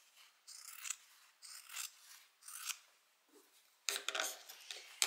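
Sharp scissors snip through leftover fabric at the bottom of a tote bag lining, giving several quiet, crisp cuts in a loose rhythm, close and alone.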